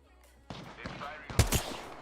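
Gunfire in the video game Apex Legends, a short cluster of sharp shots in quick succession, with a voice talking over it.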